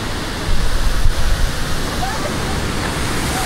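Heavy water rushes over a dam in a loud, constant roar like a torrent pouring over a spillway, with no speech.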